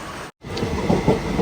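Steady rumble and rattle inside a moving passenger train carriage on a rainy day, with one brief dropout near the start.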